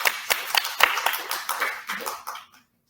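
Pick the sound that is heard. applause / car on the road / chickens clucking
applause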